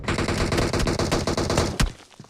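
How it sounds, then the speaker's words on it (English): Sustained rapid M416 assault rifle fire traded between two teams in PUBG Mobile, dense overlapping bursts of automatic shots close and loud, with a final heavy report before the volley tapers off. "M416 sprays exchanged"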